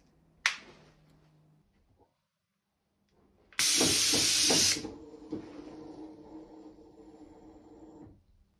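Airless paint sprayer atomizing emulsion through an LP 515 tip at about 1200 psi, a loud steady hiss that bursts on for roughly a second after a sharp click, then drops to a fainter ongoing spray with rattling knocks.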